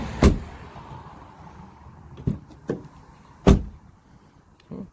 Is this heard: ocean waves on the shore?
no